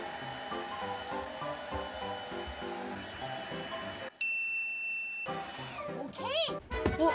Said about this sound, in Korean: 드라이기 드라이.